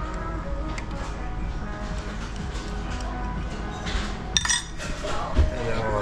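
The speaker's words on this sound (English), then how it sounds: "Stir that up." A spoon stirs brown sugar into a drink on a train, with light clinks of metal against a cup, a brighter clink near the end, and steady train rumble and background noise throughout.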